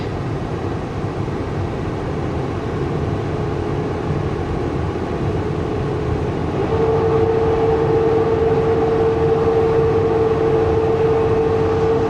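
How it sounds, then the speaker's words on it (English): A continuous low rumble of a passing train, steady and fairly loud, with a sustained tonal whine joining partway through. "Hey, there comes another train."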